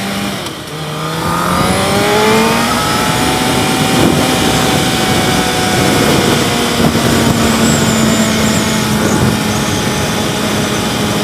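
A car engine pulls steadily with rising, sustained drone lasting the whole stretch, close and loud under rushing wind, no talk.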